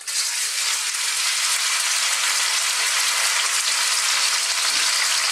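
Bacon or pork frying in hot oil in a wok, a loud, dense, continuous close sizzle that stays even throughout with no talking.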